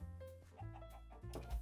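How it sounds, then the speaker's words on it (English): Chickens cluck in a modded Minecraft farm, a few short game-style clucks heard close and fairly quiet over a soft background. "So here we have chickens"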